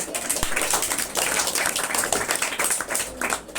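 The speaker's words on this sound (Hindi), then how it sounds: "उनके लिए एक बार और बजाओ ताली।" Students in a Sanskrit class applaud together, a dense run of overlapping hand claps that stays loud and fairly close throughout, with no speech over it.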